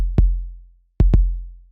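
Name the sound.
kick drum stem with drum fattener effect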